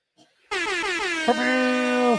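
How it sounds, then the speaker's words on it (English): A single loud air horn blares at an Atlanta Falcons OTAs session in Flowery Branch after a brief faint noise, holding a long brassy blast with a slight stutter midway. "I got the air horn ready"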